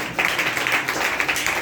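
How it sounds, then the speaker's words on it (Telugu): Applause from a church congregation at a fourth anniversary service, a steady wash of many hands clapping at moderate volume throughout, with no clear voice over it. "చప్పట్లు పడి కనపరచండి."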